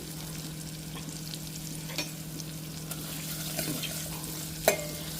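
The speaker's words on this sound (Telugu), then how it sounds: "ఇవైతే కొంచెం మంచిగా వేగాలి" Pumpkin pieces fry in a pan with a soft steady sizzle, with a few light scrapes and one sharper clack of the spatula as they are stirred, no voices.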